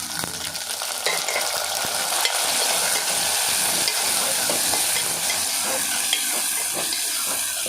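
Broad beans and tomato frying in a pan, with steady loud sizzling and frequent scraping and stirring clatter from a utensil, close up and without any talking.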